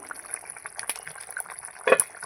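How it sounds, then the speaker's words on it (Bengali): Bhetki fish curry with potatoes simmering in a pot, heard close up as soft, irregular bubbling and small liquid pops with one brief louder burble. "ততক্ষণে ঝোলও ফুটে যাবে"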